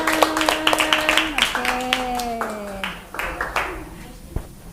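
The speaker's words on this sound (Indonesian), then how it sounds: "Tepuk tangan." Students in a classroom clapping after a presentation, sharp scattered claps overlapping with voices talking and calling out throughout.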